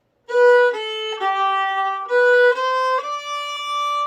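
A solo fiddle plays a short melodic phrase from the fiddle tune Squirrel Hunters, several bowed notes, clear and close, with a brief pause midway.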